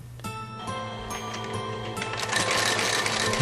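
A sewing machine stitches leather hiking boots in a workshop, a steady close mechanical whir with a constant hum that grows a little louder and denser toward the end, no talking.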